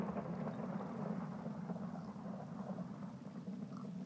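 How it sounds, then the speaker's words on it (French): Steady, dense rumble of a heavy thunderstorm with rain in the modded Minecraft SkyFactory world, a continuous wash of noise at low level with no voices. "En plus, il y a de l'orage à fond là."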